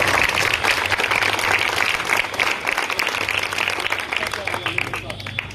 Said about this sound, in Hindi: एक बार एक साथ सब मिलकर के जोरदार तालियां।